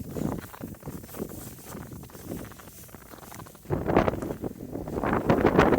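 Strong wind gusting with blowing snow after a snowstorm in Toronto, buffeting the microphone in uneven rushes that swell louder toward the end.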